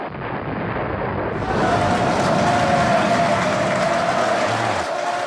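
A large crowd roars and applauds in a dense, steady wash that swells after the first second and holds loud and close throughout, following a countdown to a fire cue.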